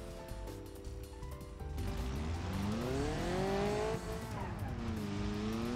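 A front-wheel-drive Gavril Vertex car in BeamNG Drive, with its engine revving up and pitching smoothly higher and lower as it accelerates, loud and close, with some tire noise and no talk.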